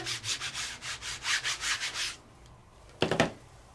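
An inked stamp is rubbed firmly onto a gel press in a series of quick, even scrubbing strokes, close and distinct, then a short pause before one more brief burst of rubbing.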